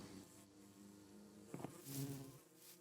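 Modded bees buzz in a Minecraft Enigmatica 6 modpack, a faint, wavering insect drone that rises briefly in the middle and fades out near the end, with no speech over it.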